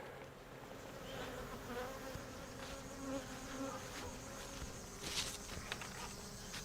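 Steady, close buzzing from a tiny honeybee swarm, continuous droning throughout with individual bees passing near, no talk.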